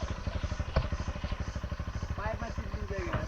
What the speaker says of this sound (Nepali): फाइनली हाम्रो सुनिल चाहिँ आउँदैछ बाइक लिएर